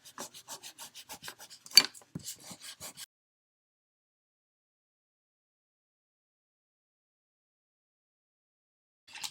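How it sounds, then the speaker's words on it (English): Oil pastel or crayon rubbed on paper in quick, rhythmic back-and-forth strokes, a soft scratchy rasp for a few seconds, then silence and a brief return of strokes at the end. "You could do crayon rubbing and add textures with"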